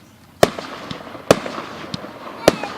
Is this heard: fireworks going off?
yes